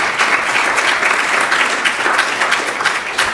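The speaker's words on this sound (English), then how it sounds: "please give another big round of applause for Harihara Narayan" Steady, dense applause from an audience at a Diwali and Govardhan Puja Sunday feast class fills the room, holding even throughout with no voices.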